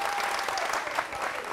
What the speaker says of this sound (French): on les applaudit très fort, s'il vous plaît.